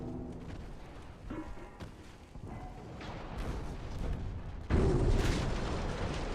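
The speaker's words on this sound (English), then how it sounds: "Fire forward torpedoes. Thank you. Torpedo away." Torpedoes launch from a warship in the naval battle game Ultimate Admiral: Dreadnoughts, a series of muffled thuds and rumbling booms that build and end in a louder, heavier rush, with no talking.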